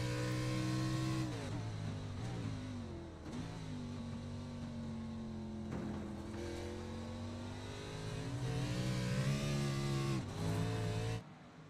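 A race car engine screams around Watkins Glen in a racing video game, the pitch climbing and dropping through gear changes and corners, loud and steady throughout.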